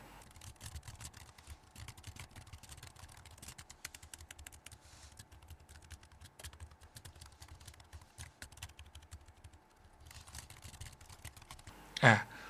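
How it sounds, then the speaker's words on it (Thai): Soft, rapid clicking on an iClever BK08 tri-fold folding keyboard continues steadily throughout at low volume, ending with a single sharper knock. "เดี๋ยวผมอัดเสียงให้คุณฟังว่า เสียงการพิมพ์เนี่ยเป็นประมาณไหนครับ"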